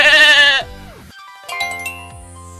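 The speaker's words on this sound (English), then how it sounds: "It's a sheep." A sheep bleats loudly once, a wavering nasal cry, followed by quieter trailing tones and a short sharp blip at the end.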